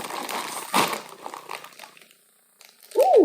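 Crinkly plastic bag of cheddar jalapeno chips torn open by hand: a sharp crackle of packaging, then lighter rustling that fades to near silence, with a brief squeaky sound at the very end.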